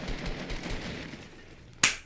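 A single loud, sharp gunshot cracks out near the end of a PUBG-like video game shooter, following a stretch of quieter low background noise.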